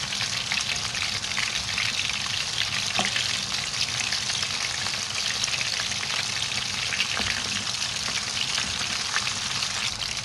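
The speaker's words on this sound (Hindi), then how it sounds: "फिश डाल दिया मैंने फ्राई करने के लिए" Lahori-style finger fish fries in hot oil, a dense, steady sizzle that crackles evenly and loudly close by, with a few faint spoon taps and no voices.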